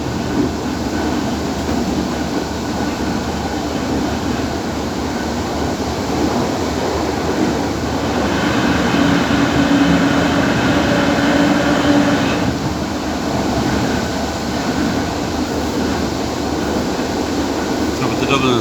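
An Irish Rail DART commuter train runs through a long tunnel near Bray, giving a loud, steady, enclosed roar with a continuous rumble and faint rail clatter throughout.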